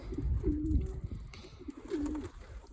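Pigeons coo close by, two soft rolling calls with a pause between, over faint fluttering and background rustle.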